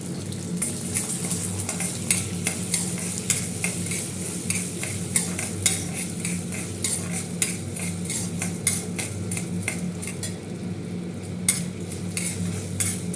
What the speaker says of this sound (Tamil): எண்ணெயில் போட்டு வதக்கிட்டு அதுலேயே இந்த உளுந்து ஒரு ஐம்பது கிராம் உளுந்து